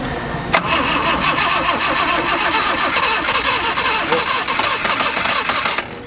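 An old vehicle pulled out of long barn storage cranks and catches, its engine then running loud and close in a rough, uneven chug that carries on steadily throughout.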